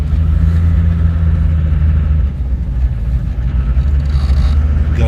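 A Toyota HJ61 engine runs steadily on a snowy mountain road between glaciers after a gear change, a loud continuous low rumble with slight rise and fall in pitch, no talking.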